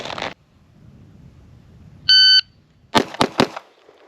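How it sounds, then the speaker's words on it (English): A pistol fires three rounds in two seconds on a qualification range: a shot timer beeps once, then three sharp, loud cracks follow in quick succession, close by, with a short earlier crack at the start. "We're going to fire 3 rounds in 2 seconds"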